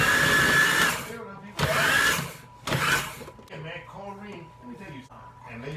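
An Oster blender grinding bread slices into crumbs, in three loud, rough whirring bursts separated by short pauses, followed by quieter clattering and settling sounds.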